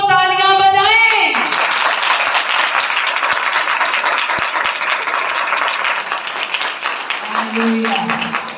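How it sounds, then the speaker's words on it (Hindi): A congregation at a Christian prayer meeting bursts into loud, sustained clapping right after a speaker's voice, many hands beating steadily for several seconds before the speaker's voice returns over the fading claps. "जो नहीं थके वो तालियां बजाएं"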